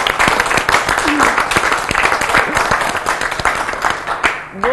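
Studio audience at a French health quiz show applauding a contestant, with sustained clapping throughout, distinct sharp individual claps standing out from the crowd, and brief bits of voice mixed in.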